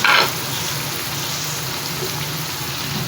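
Tomatoes fry in a large pot of whole spices for a big batch of chicken biryani, giving a steady, dense, rain-like sizzle that holds evenly from start to finish, with a brief brighter burst at the start.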